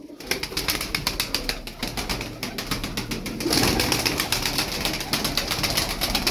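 Dense pigeon sounds with repeated soft cooing calls and a busy flock chatter, steady and fairly close throughout.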